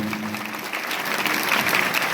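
Students and teachers at a boys' residential school event in Nagarjuna Sagar, Nalgonda, break into steady applause that fills the whole stretch, a dense crowd clapping at moderate loudness with no talk over it.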